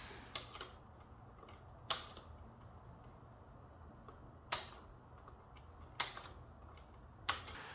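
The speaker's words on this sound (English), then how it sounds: "I'm just cutting each segment with wire snips." Wire snips cutting wire mesh segments while building a pet cage, heard as a few sharp, separate snips spaced a second or more apart over a quiet background.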